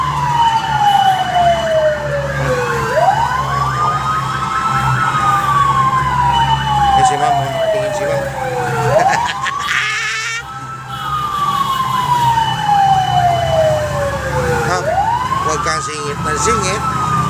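Wailing fire truck siren from a fire prevention month parade in Santa Rosa, Laguna, heard close behind the vehicle, rising and falling in long repeated sweeps over steady engine rumble.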